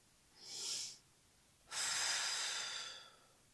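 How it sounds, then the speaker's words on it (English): Two audible breaths, a short inhale followed after a pause by a longer, deeper exhale, close and soft with breathy airflow in a quiet room. "So let's take a deep breath."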